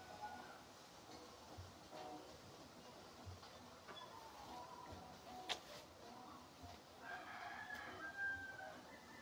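A chicken clucking and crowing faintly in the distance, over a low rumbling outdoor background with a passing rattle.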